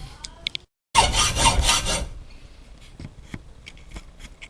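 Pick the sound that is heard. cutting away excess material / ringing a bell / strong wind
cutting away excess material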